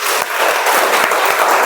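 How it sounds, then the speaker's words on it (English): A meeting audience bursts into loud, dense applause on request, many hands clapping together close by in a sustained wash of sound. "Claps."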